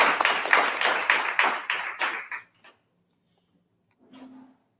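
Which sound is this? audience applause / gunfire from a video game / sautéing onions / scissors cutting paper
audience applause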